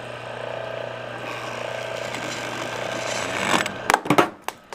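The main spindle of a Schaublin 70 lathe turns at just under 500 RPM in a machine shop, giving a steady mechanical whir with a low hum. Sharp clanks and knocks break in near the end.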